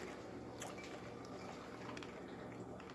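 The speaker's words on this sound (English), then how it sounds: "I'm going to pour it right over the top of the jalapenos." Boiling vinegar water is poured through a strainer over jalapenos, a soft close splashing and patter of liquid with a few small drips, no voices.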